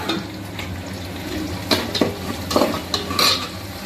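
Ginger garlic paste fries in a pan while a spoon stirs it, a low continuous sizzle broken by several sharp metallic scrapes and clinks against the pan.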